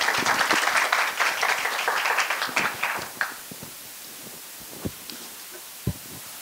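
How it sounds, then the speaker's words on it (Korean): An audience at a graduate school admissions session applauds a professor, with dense clapping for about three seconds that quickly dies away into a few scattered, isolated claps over quiet. "상세한 설명과 답변해 주신 이승우 교수님께 큰 박수 부탁드리겠습니다."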